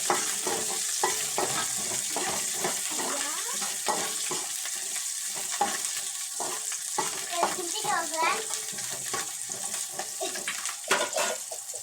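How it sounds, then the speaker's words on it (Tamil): Green chillies sautéing in a pan for chicken curry, with a continuous close sizzle and repeated stirring scrapes and clatters, under intermittent talk. "நல்லா வதக்கிக்கிறேன் ஃப்ரெண்ட்ஸ்"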